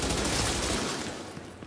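Gunfire in the shooter game The Division: a dense, continuous burst of rapid shots that fills the moment, then tapers off slightly toward the end.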